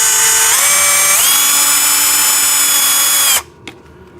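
A power tool whirs steadily on a bolt during assembly of a JCB ride-on tractor excavator toy, its pitch stepping up twice before it cuts off abruptly, followed by a couple of faint clicks.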